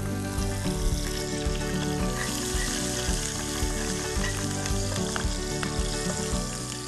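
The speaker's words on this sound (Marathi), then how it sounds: "खूप मस्त असा तुपामधला तडका" Whole spices, green and black cardamom, cinnamon, slit green chilli and ginger-garlic paste frying in ghee for a tadka, a steady loud sizzle with a musical tone running underneath throughout, no voices.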